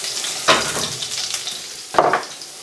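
Garlic and ginger hit hot oil in a wok with two sharp bursts of frying, one near the start and another a little later, each settling into a steady broadband sizzle.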